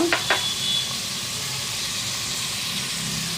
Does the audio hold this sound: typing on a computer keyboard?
no